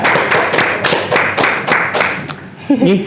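Audience clapping for contest winners at an Indonesian religious program event, a burst of several distinct hand claps in uneven rhythm, fairly close and loud, fading as a voice begins to speak near the end.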